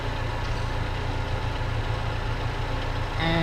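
Steady low rumble of a Saturn S-Series car engine idling in park, close and continuous, with a slight rise in hum near the end.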